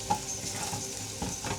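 Browning onions sizzle steadily in a hot pan while a spoon stirs them, giving a close, constant frying hiss broken by soft scraping strokes.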